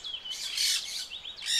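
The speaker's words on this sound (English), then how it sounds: "The only sounds were the song of the birds," Birds in a wood sing high, bright chirps and trilling phrases, close and clear over a quiet background, with no voices.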